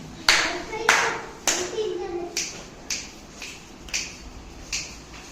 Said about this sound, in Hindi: कितनी ताली बज रही है, कितनी चुटकी बज रही है